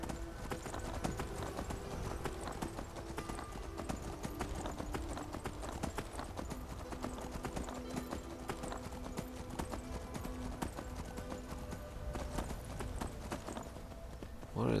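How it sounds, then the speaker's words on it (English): Horse hooves in the Skyrim video game clop in a steady, continuous galloping rhythm, loud and close throughout, with game ambience underneath and no talk. "Hope I can drive this horse."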